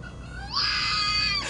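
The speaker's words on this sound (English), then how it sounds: "Have you ever heard foxes make that noise before?" A fox on coastal cliffs letting out a single drawn-out, high-pitched scream, like a woman shrieking, heard clearly and alone for about a second.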